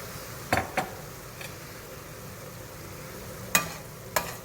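Heavy cream being stirred into a hot pan, a soft sizzle under a few sharp spoon taps and scrapes against the pan.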